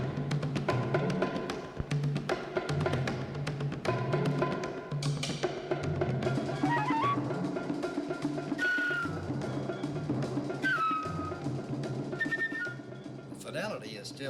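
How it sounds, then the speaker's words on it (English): Music played back in mono from a monaural tape on a Webcor reel-to-reel recorder, a moderately quiet orchestral tune with a steady rhythmic pulse and bright melodic lines, with no talking. "when you play the monaural tape on the recorder, it sounds like this"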